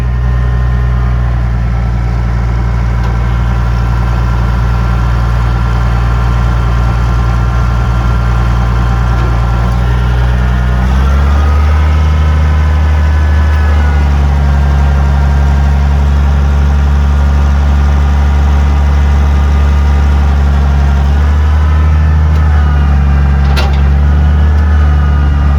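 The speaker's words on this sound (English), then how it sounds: "I'm gonna jump up on the tractor and we'll see if it works." A farm tractor engine runs steadily while planter marker arms are tested, a loud, close, continuous low rumble with a slight shift in pitch and load partway through.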